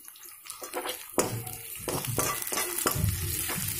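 Green chilies frying in a pan while chow mein is prepared, a close hiss and crackle with repeated stirring strokes of a spoon against the pan, growing louder after the first second.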